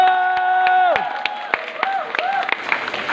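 Applause and cheering from a crowd at a university freshers' pageant results and crowning ceremony, rising after a sustained musical tone fades, with scattered loud claps and whoops over a dense, busy background.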